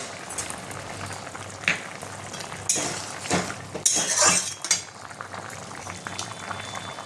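Vegetables for shukto bubble in a pot on the stove, a steady close bubbling broken by a few clinks and scrapes of a utensil against the pot, with no talking.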